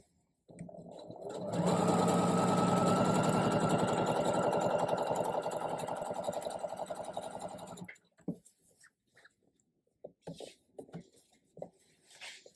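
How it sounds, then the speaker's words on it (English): A sewing machine runs fast and steady for about seven seconds, stitching down a crease in a quilt, then stops, leaving a few soft taps and fabric handling noises. "basically I'm just sewing down that crease and following along"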